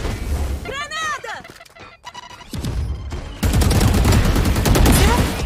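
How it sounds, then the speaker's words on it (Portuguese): A grenade blast and bursts of gunfire in the tactical shooter Valorant, loud and dense; excited player voices talk over the action. "Granada!"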